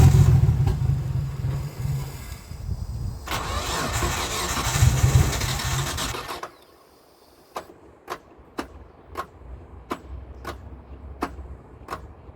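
Nissan R33 Skyline with a Walbro 255 fuel pump, struggling on stale fuel: the engine cranks and catches in rough bursts for several seconds, then falls quiet, leaving a series of sharp, evenly spaced clicks.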